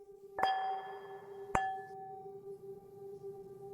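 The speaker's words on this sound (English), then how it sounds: "A soft, crystalline tap." Two soft, crystalline taps on glass, about a second apart, each leaving a clear ringing tone that lingers and fades in an otherwise quiet room.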